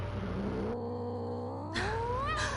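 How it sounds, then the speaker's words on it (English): A cat in the Batman Telltale video game gives drawn-out, rising meows and caterwauls against a low steady hum, with no talk over it. "cats and they start to purr."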